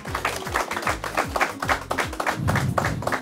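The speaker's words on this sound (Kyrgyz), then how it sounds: "команданы колдоп бир кол чаап коелу" A quiz-show audience claps steadily in support of a newly arrived team, a dense, continuous patter of many hands at close range under low musical tones.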